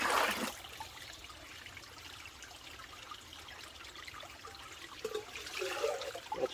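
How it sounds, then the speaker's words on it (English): Water splashes and trickles as a cooking pot is rinsed out at a rainy campsite, a close, gentle sloshing that rises at the start and again near the end. "Need to rinse this out a little bit there"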